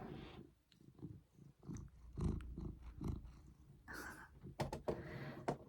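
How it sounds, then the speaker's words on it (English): A cat purrs very softly and close by, a faint low rumble among small rustles and movement noises, with a brief sharper click or knock near the end. "He's a soft purr."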